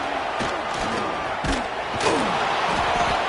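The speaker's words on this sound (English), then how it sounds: "Listen to this crowd just shaking the girders of this place, trying to help their defense." College football crowd roaring in a packed stadium as Missouri plays at Iowa: a loud, sustained wall of cheering that swells slightly near the end, with scattered thuds and shouts mixed in.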